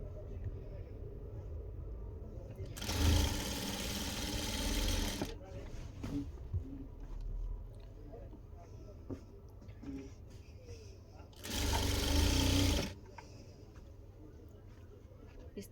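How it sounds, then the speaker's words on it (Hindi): A sewing machine stitching suit lining whirs in two loud bursts, one of about two seconds and a later shorter one, and someone talks softly between the runs. "यहाँ से मैं डीप तब लगा रही हूँ सिलाई"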